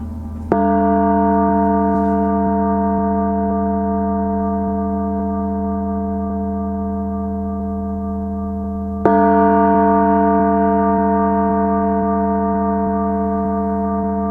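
Two loud metallic strikes of a mallet on a Paiste bronze gong ring out, each followed by a long, slowly fading resonant hum like a deep church bell, with no voices.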